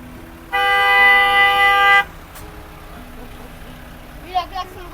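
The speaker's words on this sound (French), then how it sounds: "Lui, la klaxon de voiture." A car horn blares once in a single steady honk lasting about a second and a half, loud and close, followed by quieter street ambience with a faint voice.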